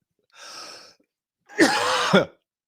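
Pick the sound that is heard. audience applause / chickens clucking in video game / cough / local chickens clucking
cough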